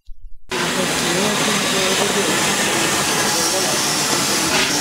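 Wood-burning steam locomotive number 2 at Tavares, heard close up from beside its tender: a loud, steady broadband hiss and rumble that cuts in abruptly after a brief pause and holds unbroken.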